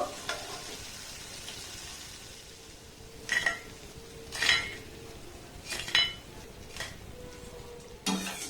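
Fried sweets lifted out of hot oil in a pan, a steady low sizzle with four or five distinct clinks of a utensil against the pan at irregular intervals, no talking.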